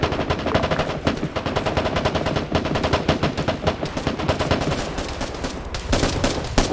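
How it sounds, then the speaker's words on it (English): Dense, continuous automatic gunfire and overlapping shots from a military video game firefight, loud and sustained throughout with rapid bursts layered over one another. "They're shooting at these guys over here without realizing they're getting shot."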